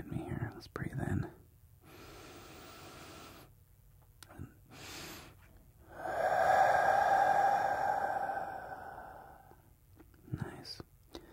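A soft ASMR-style breathing exercise: quiet breaths and whispery sounds, then a long, louder airy exhale lasting a few seconds, followed by faint breathing noises.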